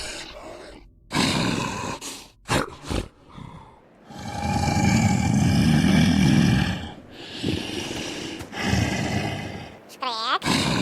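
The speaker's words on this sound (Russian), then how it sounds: "Это звуки венома." Venom monster roaring in the STALKER video game, deep guttural growls and snarls in several loud bursts, with a long rumbling roar in the middle and sharp clicks between them.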